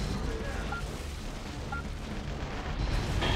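Gun battery artillery fire in the Metal Wolf Chaos video game: a dense, continuous roar of booms and rumbling blasts, loud and sustained throughout.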